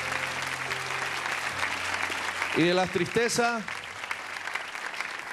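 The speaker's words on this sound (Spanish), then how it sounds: "Y la gente lo despide con un aplauso." A television talent show audience applauds a departing contestant, with sustained clapping throughout and someone speaking briefly over it partway through.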